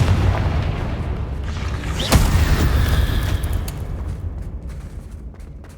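A blasting spell explodes in the Hogwarts Legacy video game, a sudden loud boom with a sharp crack that rolls into a sustained rumbling roar over a dense game soundscape, fading toward the end.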